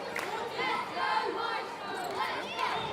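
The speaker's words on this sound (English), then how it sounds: "Maestro fans cheering on their boys because they are playing brilliantly" Football fans at a youth league match cheer and shout in a steady crowd roar that swells and dips slightly, with mixed voices and chatter blending throughout.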